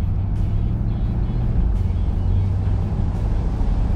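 A 2022 C8 Corvette sports car cruises smoothly, its engine a steady low rumble heard from inside the cabin, constant and fairly loud with no talking.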